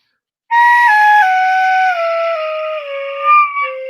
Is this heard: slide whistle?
yes